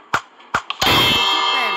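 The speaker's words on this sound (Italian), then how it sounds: "quando non prendi un bersaglio la campana suona" A bell clangs in a Minecraft minigame after a missed target, following two short tapping hits, then ringing out with a long bright decaying tone.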